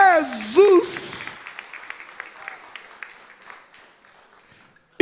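Church congregation applauding during an evening service: a voice opens briefly, then dense clapping swells and holds before gradually thinning and fading out.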